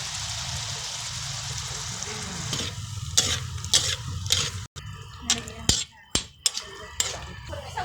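Pancit fresh miki noodles with soy sauce, beans and cubes being stirred in a pan, steady sizzling and frying with a run of sharp scraping and clacking strokes from the utensil, close and moderately loud.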